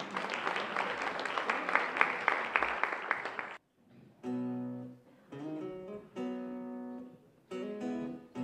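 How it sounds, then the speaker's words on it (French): An audience applauds steadily at a regional French chanson contest in Torcé en Vallée. The clapping lasts a few seconds and then cuts off as a melodic instrumental accompaniment begins in clear phrases. "Sous vos applaudissements, s'il vous plaît."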